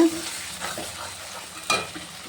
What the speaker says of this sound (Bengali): দিয়ে ভালো করে আমি নাড়িয়ে নেব।